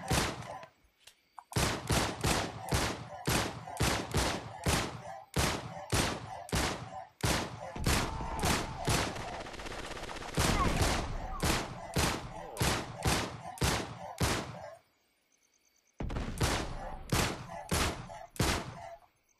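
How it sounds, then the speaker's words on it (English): Rapid bursts of gunfire in an Uncharted 3 co-op firefight on Crushing difficulty, dense repeated volleys with short gaps and one longer pause near the end, loud and close. "I put like most of my fucking bullets in this guy and he didn't die"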